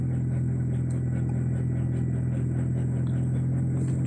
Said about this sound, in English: Is my engine having issues?